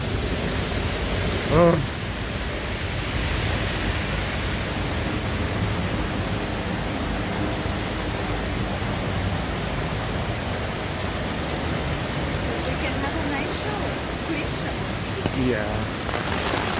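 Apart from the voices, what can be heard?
rain falling during a walk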